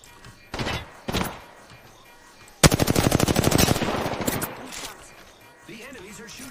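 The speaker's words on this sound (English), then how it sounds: "The enemies are shooting at me." In Apex Legends gameplay, enemy gunfire lands in bursts: a couple of short shots, then a long rapid automatic volley, loud and close, with a voice talking during and after the shooting.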